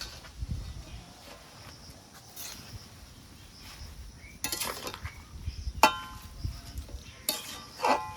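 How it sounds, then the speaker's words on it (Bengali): Pumpkin greens with lentil bori and green chillies being stirred in a pan, soft scraping and occasional clinks of a utensil against metal, gentle and intermittent with faint sizzling underneath. "এখন একটু নেড়ে নেব"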